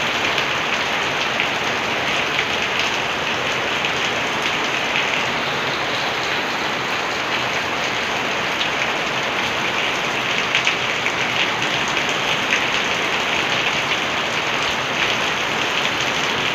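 Heavy rain pours down in a steady, dense hiss of drops on surfaces, close by and unbroken for the whole stretch, with no voices.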